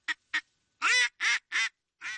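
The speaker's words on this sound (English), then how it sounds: "The whole shoreline's full of ducks here." Ducks quacking in a short run: two quick clipped quacks, then four louder, drawn-out ones spaced evenly, close by with no other sound.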